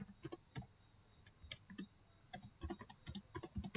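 Typing on a computer keyboard, a quiet, close patter of uneven key clicks in short clusters with brief pauses between them.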